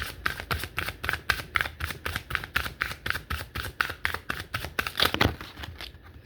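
Oracle cards are riffled and shuffled close up in quick, even bursts of crisp slaps and flutters, with no talk.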